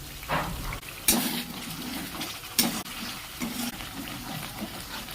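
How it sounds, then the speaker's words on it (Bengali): Spices and vegetables sautéing in oil in a pan for pulao, with turmeric and ground spice paste, a steady low sizzle broken by a few louder stirring scrapes, close and without talk. "মশলা ভালোভাবে ভেজে গেছে বা কষে গেছে"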